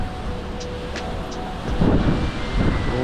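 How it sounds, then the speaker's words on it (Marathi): Wind howls and gusts across a mountain pass on the Taru Khind trek in the Sahyadri range, a low rumbling roar that strengthens in the latter half, with faint whistling above it. "घोंगावणारा वारा आहे"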